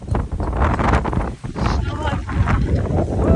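Strong gusting wind buffets the microphone outdoors near water, a constant loud roar with surges, while people laugh and talk over it.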